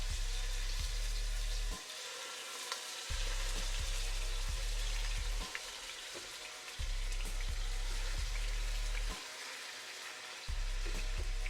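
A chuck roast for birria sears in hot avocado oil, a loud close sizzle that swells and eases in waves as the meat settles and shifts in the pan, with no talking.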